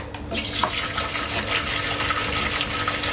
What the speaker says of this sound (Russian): Выливаем 5 литров воды.